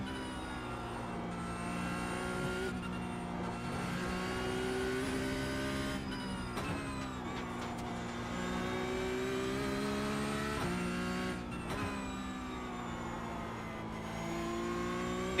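A race car engine in the iRacing PC simulator drones continuously at high revs, with pitch rising and falling through gear shifts and brief dips as the car brakes and accelerates again.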